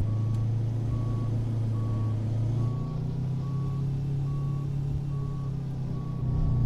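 Steady, evenly spaced reversing beeps sound over a loud, low truck engine rumble from a Kenworth W900A in American Truck Simulator, continuing throughout with no talking.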